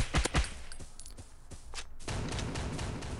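In the video game Bullet Force, a Lewis gun fires in quick bursts of sharp, close shots, then goes quiet before a denser rumble of distant gunfire takes over.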